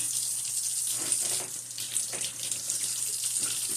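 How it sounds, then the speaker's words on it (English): Tap water runs steadily over hands being washed at a kitchen sink, a continuous soft splashing with small fluctuations, close and moderately quiet. "Wash my hands again."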